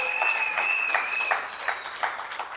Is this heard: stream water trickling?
no